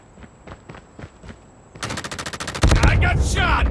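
Automatic gunfire in the mobile shooter game Call of Duty Mobile: a few scattered shots, then rapid sustained bursts that grow louder and denser toward the end.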